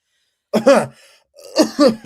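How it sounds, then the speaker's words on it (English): Two short bursts of coughing, a brief one and then a double cough after a pause, close and fairly loud with no talking. "Sorry, a bit of cough there."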